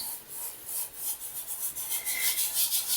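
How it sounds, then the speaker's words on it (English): A pencil eraser rubs back and forth on paper in quick, close, rhythmic strokes, a soft papery scrubbing with no talk over it. "When I rub out, it wobbles the camera"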